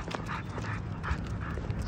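A dog panting rhythmically nearby on a walk, with soft snuffling and a faint whimper, no talking.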